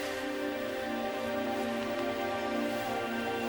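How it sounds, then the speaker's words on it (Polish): Light, steady drizzle on a mountain summit after a storm, heard as an even, continuous hiss with no distinct drops or voices. "Już cały czas siąpi."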